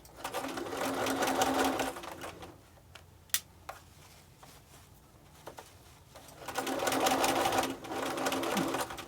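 A sewing machine stitches a quarter-inch seam on a fabric hobo bag, running in a steady whirring burst, stopping for a few light clicks as the foot is raised and the work pivoted, then running again, loud and close.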